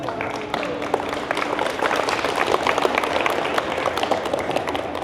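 Students at a school vaping talk give a scattered round of clapping, uneven individual claps rising and thinning over several seconds, moderately loud with a faint voice or two under it.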